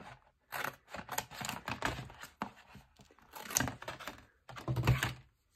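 Scissors snip and crunch through a Tetrapak carton in a quick irregular run of close cuts and rustles, with no talk.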